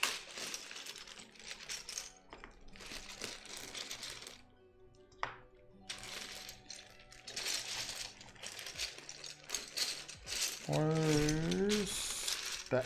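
Mechanical keyboard switches clacking on a freshly assembled Key65 custom board, bursts of key presses in uneven runs with short pauses, close and fairly quiet, ending with a sustained tonal whine.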